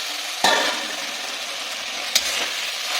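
Potatoes and pointed gourd stir-frying in spices, a steady close-up sizzle with two sharp scraping clatters of a spatula stirring the pan.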